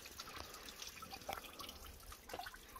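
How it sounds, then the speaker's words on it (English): Water trickles and drips from a small waterfall into an old stone well at a remote desert ruin, faint irregular splashes and drips over a quiet outdoor background. "and all the water trickles down here."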